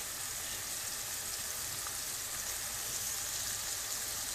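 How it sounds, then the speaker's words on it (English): Ground beef fries in a pan for red beans and rice, giving a soft, steady hiss and sizzle with faint crackles, heard fairly quietly and alone. "this is my ground beef I'm cooking right here"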